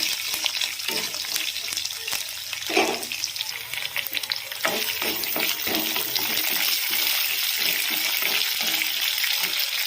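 Chopped onion and green chilies sizzling steadily in hot oil in a pan while being stirred, a loud continuous hiss broken by repeated scraping spoon strokes, with no one talking.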